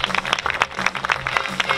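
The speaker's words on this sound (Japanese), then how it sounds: "皆さん大きな拍手" Fans at a Giants Square event clapping for the kids, a dense crowd applause of many hands, steady and fairly loud, with no one speaking over it.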